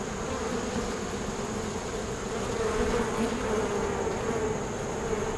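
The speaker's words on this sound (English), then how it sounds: "bees are not happy with what she's doing" A dense, steady hum of many honeybees buzzing close by, continuous and unbroken throughout.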